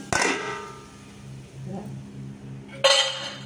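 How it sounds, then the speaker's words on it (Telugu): A metal lid is set onto a pot of tomato egg curry with a sharp clink, followed by quiet cooking and a second clatter near the end, heard close in a home kitchen. "మూత పెట్టేసుకొని"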